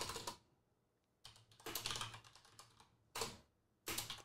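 Someone types a command on a computer keyboard, with close bursts of quick clicking keystrokes separated by short pauses and a final pair of quick taps.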